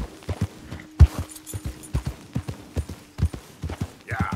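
Horse hooves clip-clop in a steady walking rhythm in Red Dead Redemption 2, close and distinct, with a few irregular heavier steps and a brief rustle near the end; no talk.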